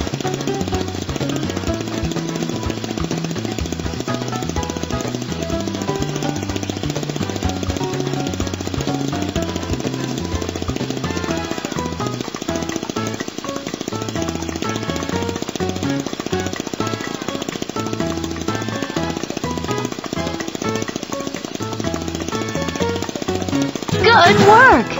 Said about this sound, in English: here comes Manny and his motorcycle to the rescue!